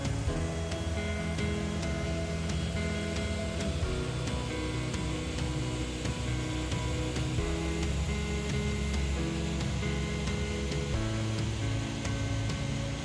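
Water pours over Bear Creek Falls in a continuous, dense rush that holds steady and fairly loud throughout, with no voices over it.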